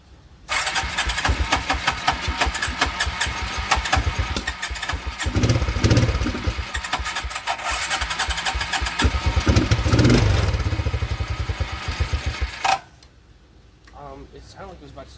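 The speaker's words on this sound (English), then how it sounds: "It sounded like it was about to start and I wasn't leaving the throttle." A 1987 Suzuki Quadrunner 250 four-wheel-drive ATV engine catches and runs loudly and roughly for about twelve seconds, its rhythm shifting with throttle changes, then cuts off abruptly, leaving quieter background sound.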